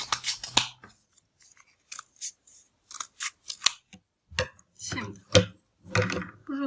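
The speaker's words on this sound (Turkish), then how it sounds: "Şimdi göstermek açısından tekrar kesiyorum." Scissors snipping through watercolour paper to cut out balloon shapes, a series of sharp, close crisp cuts in irregular bursts with short pauses between them, and no talking.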